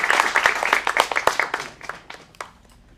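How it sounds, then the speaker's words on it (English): A short burst of applause from a small crowd at a teen acting studio showcase, brisk claps that quickly thin out and fade within a few seconds. "Let's give him a round of applause."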